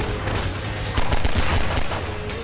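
Rockets and explosive fire in the Half-Life video game, a loud dense barrage of booming bursts and rapid blasts filling the whole moment with no pause.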